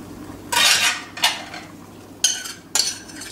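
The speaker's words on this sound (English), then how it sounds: "what I'm going to do is add my Ceylon spinach and my pinto beans" Ceylon spinach and pinto beans go into a curry made with fish stock that has been simmering in a pot, with four sharp scraping, clattering utensil strokes against the pot, close by and with no talk.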